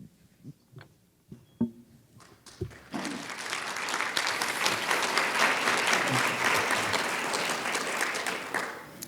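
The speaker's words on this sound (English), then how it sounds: "Thanks to whoever started the applause." Applause from a health policy conference audience. It starts with a few scattered claps and light bumps, then swells into sustained, dense clapping from a large crowd that lasts to the end.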